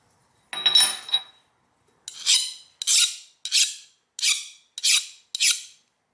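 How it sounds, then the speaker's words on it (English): A steel file scrapes and skates across a hardened steel vise jaw, giving one longer rasp followed by six short, evenly spaced strokes, close and crisp with silence between them. "let's try the file test on it. Nope. Just skates on it."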